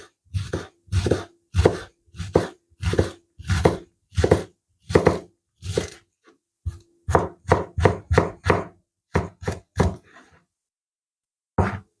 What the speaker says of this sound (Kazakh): Пиязымызды ұсақтап турап саламыз